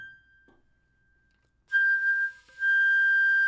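High G on a flute, a pure sustained tone that cuts in after a quiet lead-in, breaks briefly, then holds steady again, clear and alone with no talking.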